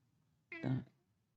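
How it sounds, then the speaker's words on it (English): A pet cat lets out a single short meow, fairly close and clear, against a quiet background. "we got my kitty cat saying meow meows"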